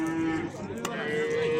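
A Kyrgyz-bred cow at Yakkatut livestock bazaar in Andijan gives one long, steady, close moo that fills the moment, with faint market bustle behind it.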